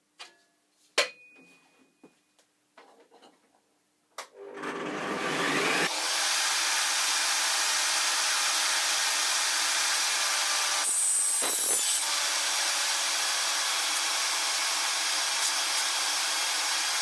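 A power saw cuts aluminium pieces for a mini staircase build, starting after a few soft clicks and knocks, then running as a loud, steady, close cutting roar with one brief dip partway through.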